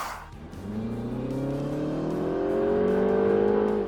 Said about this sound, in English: you will also hear a few hisses from the turbocharger